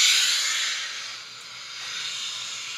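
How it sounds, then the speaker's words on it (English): A clothes steamer with automatic steam shutoff hisses steadily, loud at first and easing slightly, with no voices over it. "it has technology that it detects when it's like, and it just stops the steam when you're ready to iron"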